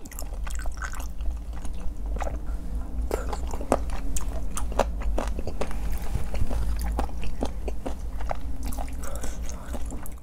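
Crunchy spicy rose-sauce chicken feet are bitten and chewed close up, with repeated sharp crunching snaps over about ten seconds and quieter wet chewing between them.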